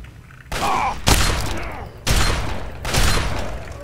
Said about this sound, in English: I'm gonna pull out my sawed-off shotgun